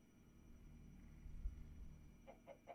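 Minecraft chicken clucking in three short, quick bursts near the end, over a low steady game background hum.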